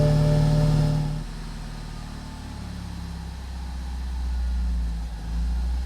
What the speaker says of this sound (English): Let's go ahead and start the car, see how she behaves.